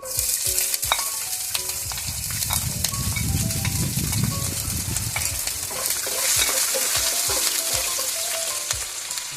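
Mustard seeds and urad dal sizzle and crackle in hot oil for a Kerala-style beef pickle, a steady close frying hiss with scattered sharp pops and a stirring scrape throughout.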